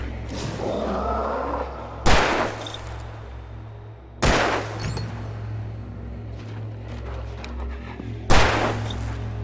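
Gunshots in the video game Alan Wake Remastered, three loud, sharp reports spaced about two to four seconds apart, each with a short ringing tail over a low steady hum.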